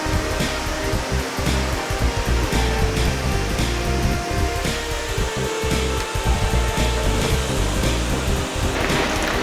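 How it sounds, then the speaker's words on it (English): Waterfall on a winter holiday river walk in Hartford, a steady loud broadband rush of falling water that fills the whole stretch without pause, close by and continuous. "Waterfall."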